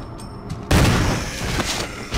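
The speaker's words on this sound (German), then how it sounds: "Der hat gerade 3 Schüsse aus der Pumpgun gebraucht." A loud, booming pump shotgun blast in the video game Resident Evil HD Remaster erupts after a quieter moment, followed by rumbling echoes and another shot.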